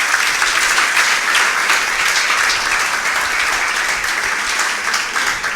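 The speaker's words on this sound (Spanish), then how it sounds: "Si usted vino contento, denle un fuerte aplauso a Dios." A church congregation applauds loudly and continuously, a dense wash of many hands clapping together at close range with no break, filling the room throughout.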